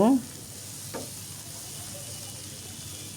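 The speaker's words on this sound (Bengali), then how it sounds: "এভাবে আমি খুব ভালোভাবে নাড়াচাড়া করে নামিয়ে নিব" Beef brain bhuna is stirred in a frying pan, a brief scrape of the spatula followed by a steady soft sizzle of oil that continues close by, with a short voice sounding at the start.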